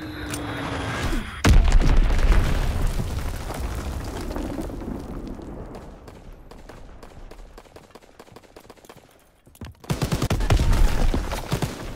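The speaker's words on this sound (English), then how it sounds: "Enemy bomb incoming." A bomb explosion in Call of Duty WWII hits with a sudden loud close blast, followed by rolling rumble and scattered gunfire, then another heavy burst of explosions near the end.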